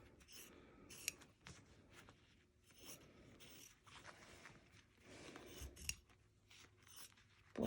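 Scissors snip through a fabric turning tab for a zip bag, giving quiet, close, repeated crisp cuts and soft scrapes in an otherwise hushed room.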